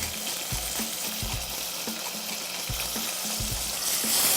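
Cipollini onions frying in rendered beef fat for boeuf bourguignon, a steady close hiss and crackle of sizzling oil with a few soft stirring knocks throughout.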